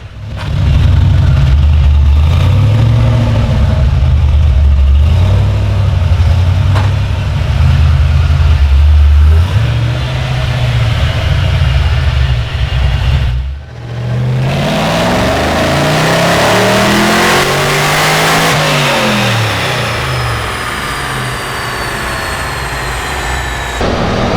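LS1 engine fitted with an LSA supercharger, driven hard with loud rising and falling revs and supercharger whine, a brief cut, then a sweeping pull through the gears, no voices.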